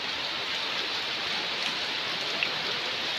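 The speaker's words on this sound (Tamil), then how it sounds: "பாருங்க எங்க ஊர்ல சரியான மழையா இருக்கு" Heavy rain pours down in a steady, dense hiss during a daylong downpour under a red alert, loud, close and unbroken, with no voices.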